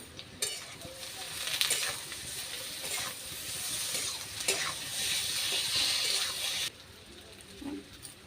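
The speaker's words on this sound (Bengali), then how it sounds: "এবার ভালো করে কষিয়ে নেব।" Vegetables frying in a pan with ground ginger, green chilli and cumin paste, a continuous sizzle with scraping and stirring strokes throughout, close and moderately loud. The sizzle drops off sharply near the end.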